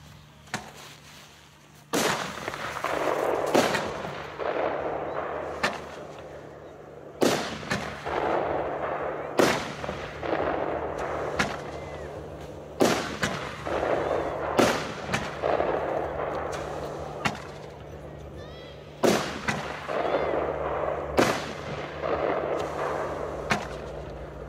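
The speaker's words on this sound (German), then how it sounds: "Als nächstes geht es weiter mit der Dragon Eye. 13 Schuss Batterie, 176 Gramm NEM" A Dragon Eye 13-shot firework battery, 176 g net explosive mass, 29.5 mm calibre, fires shot after shot, each launch a sharp thump followed by crackling bursts, repeating at roughly even intervals at moderate distance.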